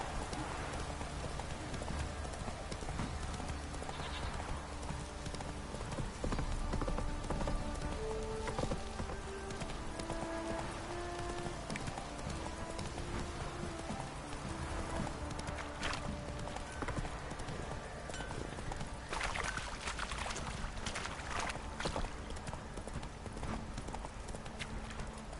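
Hooves of the horse Roach clip-clop steadily on the ground in The Witcher video game, a continuous rhythmic trot heard against a soft, rain-like background hiss with game music faintly underneath.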